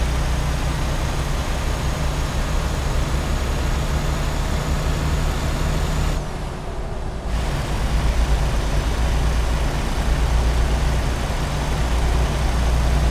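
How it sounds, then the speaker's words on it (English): A truck engine in the cab in American Truck Simulator gives a steady low drone that fills the whole stretch, dipping briefly about halfway through before returning at the same level. "Nice to hear a little bit of engine noise."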